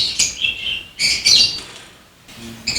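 A breeding pair of black mask budgies gives bright, high chirps and short warbling calls close by, in several quick bursts with a brief lull between them.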